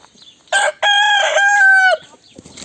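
A single loud rooster crow close by, a ringing cock-a-doodle-doo lasting over a second against a quiet background.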